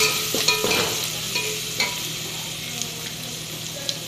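Masala with turmeric fries in a pan for masala rice while being stirred, a continuous soft sizzle with a few scraping knocks of the spoon near the start and scattered light clicks afterward.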